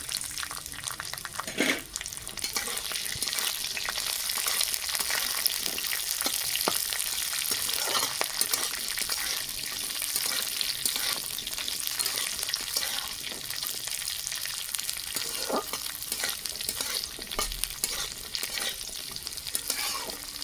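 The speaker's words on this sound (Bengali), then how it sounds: "কাজু কিশমিশ গোটা গরম মশলা ভাজা হয়ে গেছে" Cashews, raisins and whole garam masala fry in a pan with a continuous bright sizzle and occasional spatula scrapes, steady and close throughout with no talking.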